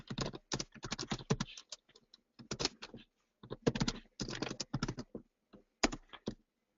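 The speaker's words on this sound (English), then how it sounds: "So in order to run a job, I'm going to type the name of the program." Keys clatter on a computer keyboard in quick close bursts of typing, separated by short pauses of silence, crisp and clear with no voices over it.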